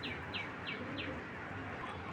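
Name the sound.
khaki pigeon calling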